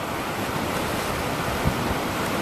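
Sea waves washing steadily on the shore with a broad, constant rush and light wind noise, moderately loud and continuous with no voices.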